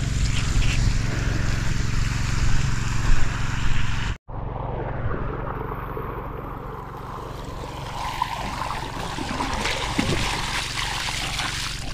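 Water flowing from an irrigation setup on a farm, a loud steady rushing gush with a low droning hum, cutting out briefly before resuming as a softer continuous trickle and splash.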